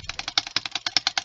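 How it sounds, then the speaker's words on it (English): Rapid mouse clicks from playing a Cookie Clicker-style sugar lumps game, a quick irregular run of about a dozen sharp, close taps with no voice. "I love the clicking noises as I do this."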